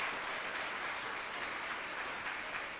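A church congregation applauds during a service with soft, steady clapping from a group, fairly distant and even throughout.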